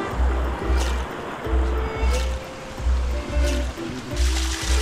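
River water rushing during a river crossing, a continuous broad splashing flow with rhythmic low thumps, steady and fairly close, with no talk over it.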